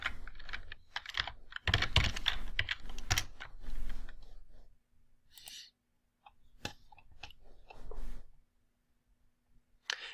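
Close, clicky typing on a computer keyboard in a quiet room, with irregular bursts of keystrokes, a few pauses, and scattered single taps toward the end.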